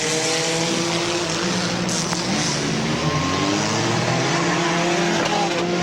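Compact race cars roar around the oval at Midvale Speedway, engines loud and continuous with shifting whine and tire noise, steady throughout.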